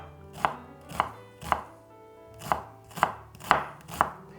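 A knife chops a small onion on a chopping board, giving eight crisp, evenly spaced cuts roughly half a second apart, close and clear with a soft board thud under each stroke and no talking.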